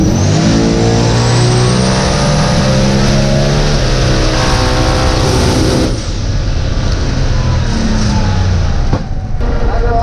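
A billet drag race engine roars loud and continuous at full throttle, its pitch sweeping upward, then shifting note partway through after a gear change and carrying on just as loud.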